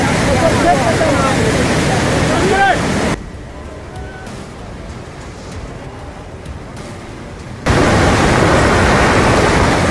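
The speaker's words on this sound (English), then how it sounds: "spectators visiting the Naltar Lakes captured a massive landslide on camera" Rocks tumble down in a massive landslide at Naltar Lakes, heard as a loud, continuous broadband roar that drops to a quieter stretch midway before surging back at full strength.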